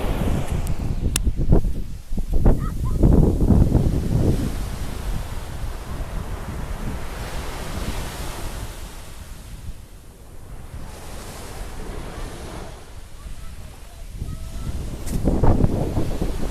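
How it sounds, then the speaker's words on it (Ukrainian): Atlantic Ocean surf on the coast of northern Spain washes in continuous broad roars, with waves swelling and breaking nearby and steady wind buffeting the microphone; no voices. "мій Атлантичний океанчик. Привіт, привіт! Ось так він звучить."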